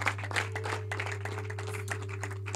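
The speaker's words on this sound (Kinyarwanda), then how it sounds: "Ntera amashyi" Audience clapping at a wedding celebration, a steady dense patter of many hands going on throughout at moderate volume over a constant low electrical hum.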